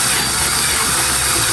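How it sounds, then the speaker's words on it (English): A power drill bores through metal on a classic Ford during brake installation, a dense continuous whirring grind held at moderate speed, loud and close throughout with no talk. "when drilling metal like this, you don't want it to be on a super high speed"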